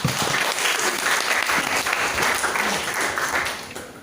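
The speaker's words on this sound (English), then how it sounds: "applause." Hackathon audience applauding at a legal tech event in Malaysia, a loud, even wash of many hands clapping throughout, tapering slightly at the end.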